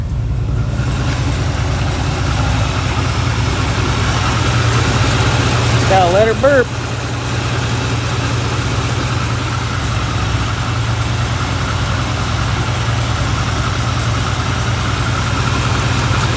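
A 1975 Chevrolet Corvette engine idles steadily and loudly at close range, a constant low rumble throughout, with a man's brief remark partway through.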